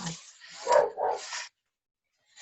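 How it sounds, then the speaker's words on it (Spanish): A dog indoors barks and yips close by in a short burst of a few rough barks lasting over a second, then goes quiet, with only a faint sound right at the end. "se pone a ladrar el perro"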